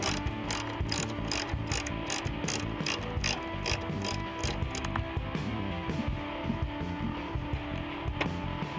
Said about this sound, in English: I'm just using my ratchet.